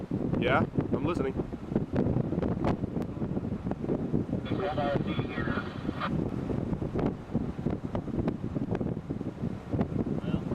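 Strong wind gusts from a very large tornado near Happy, Texas, roaring continuously into the microphone with rough buffeting bursts, while people talk nearby.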